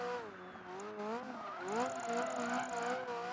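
Ferrari F40 in Project Gotham Racing 3 held in first gear, its engine note rising and falling as it revs hard, with a high tire squeal joining partway through.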